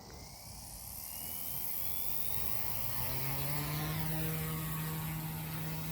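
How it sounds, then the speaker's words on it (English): An M2 Evo RC helicopter spools up and lifts off, its rotor whine climbing steadily in pitch over a constant broad buzzing roar, fairly close and unbroken throughout. "There we go, she's up. That's a lovely looking heli."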